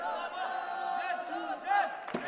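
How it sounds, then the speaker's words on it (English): Crowd at a judo semifinal roaring and shouting in support, a sustained wall of voices with rising yells, fairly loud throughout. "Support you can hear is for Sofiane OUMIHA. Got a lot of backing"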